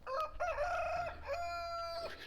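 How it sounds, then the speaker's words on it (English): A Chanticleer rooster in a backyard flock crows twice in close succession, loud and near, each call a long rising then sustained harmonic cry with a faint background hum. "That is one of our Chanticleer roosters."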